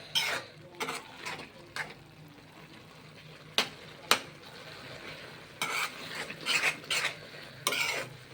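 Semiya kesari with cardamom is stirred in a pan, producing intermittent, close, sharp scrapes and clinks of a spoon against metal amid a soft background, with no voices.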